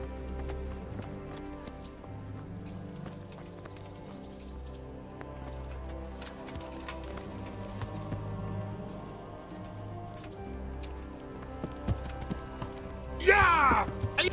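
Horse hooves clip-clop steadily in the medieval game Kingdom Come: Deliverance, carried over a constant background score, with a brief high, rising cry near the end.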